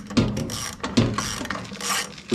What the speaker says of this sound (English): so I'll just use a ratchet. Alright, screw 1 is out